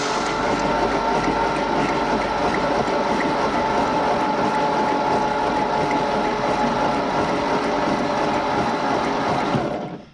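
A 1951 Ford Flathead V8, abandoned for 58 years, is cranked over with its spark plugs removed, making a loud, steady mechanical whirring and clattering that runs unbroken for nearly ten seconds and then cuts off.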